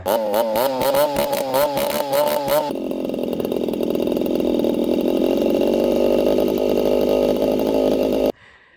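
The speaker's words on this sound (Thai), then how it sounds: "นี่ก็มีเหมือนกันแต่ว่าเขาจะเพิ่มปุ่มสตาร์ทเข้าไป เสียงกระหึ่มเลยทุกคน" A small two-stroke brush cutter engine with a push-button starter revs loudly with a buzzing, rattling tone, then settles into a steady high drone before cutting off abruptly.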